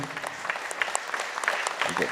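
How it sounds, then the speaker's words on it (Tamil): Audience clapping during a priest's speech about Mary, an uneven patter of hands with a few sharper claps standing out, mixed with a murmur of voices. "எல்லாம் ஒரு வாட்டி நல்லா கைத்தட்டுங்க"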